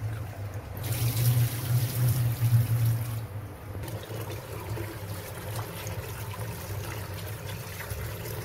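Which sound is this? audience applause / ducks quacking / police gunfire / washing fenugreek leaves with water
washing fenugreek leaves with water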